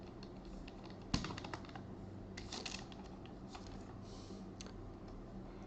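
Keys clicking on a computer keyboard in a quiet room, a sharp louder keystroke like the enter key near the start, then scattered lighter taps and a few quick bursts of typing.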